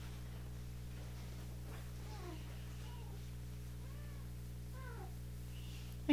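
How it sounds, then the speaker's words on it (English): A house cat meows several times indoors, short rising and falling cries scattered over a steady low hum, moderately close but soft. "Are you pestering my kitty?"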